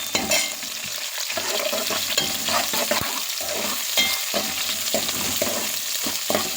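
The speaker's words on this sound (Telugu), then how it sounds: "తర్వాత పచ్చిమిర్చి వేసుకుందాము. ఒకసారి కలుపుకుందామండి." Green chillies and onion being stirred in a hot frying pan for veg biryani, a steady sizzle broken by repeated scraping stirs of the spoon, close and fairly loud with no talking.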